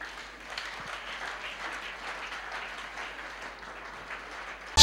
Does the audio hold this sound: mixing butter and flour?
no